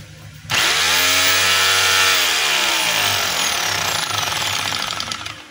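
A DeWalt D25032 rotary hammer with a suspected faulty front housing starts abruptly after a short pause. It gives a loud, close, continuous motor whine with rapid hammering that runs steadily to the end.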